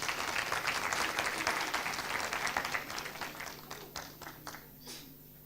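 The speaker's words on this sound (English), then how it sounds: "Round of applause, please." A hall audience applauds at an academic celebration, dense clapping that stays loud for a few seconds before thinning out into scattered final claps.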